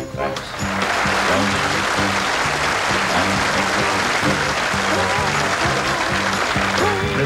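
Studio audience applauding for a performer on a 1978 country music TV show, a broad, steady wash of clapping lasting throughout with a low musical band playing underneath.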